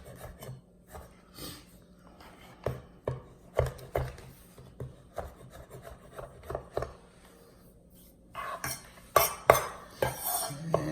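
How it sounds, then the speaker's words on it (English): A knife chops mushrooms on a cutting board while stuffed ribeye pinwheels are being prepared, giving close, irregular bursts of scraping and tapping blade strokes, with a denser, louder flurry of cuts near the end. "I'm sure you guys don't want to see me cutting up mushrooms all night"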